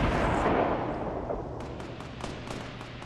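Distant gunfire in Fortnite Battle Royale: a muffled rumbling burst, then a string of sharp, separate shots in loose rhythm, moderately loud, with no talking.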